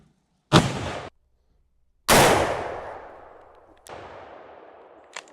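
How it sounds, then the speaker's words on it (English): Winchester 1886 rifle firing 45-90 WCF 225 grain rounds outdoors, with two loud booming shots and a long echoing decay after the second, then a fainter third report and a closing metallic clack. "Now we're going to shoot the 225 grain."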